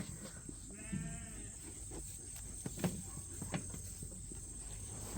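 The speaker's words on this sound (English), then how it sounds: "You guys are normal sheep." Sheep bleat in short quavering calls against a steady background hum and scattered outdoor noise, with a few soft knocks.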